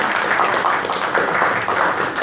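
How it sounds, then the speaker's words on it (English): Audience applauding candidates at a community candidate forum, a steady wash of clapping that stays fairly even throughout without talk over it. "I think we ought to give everybody up here a round of applause at least one time for doing this."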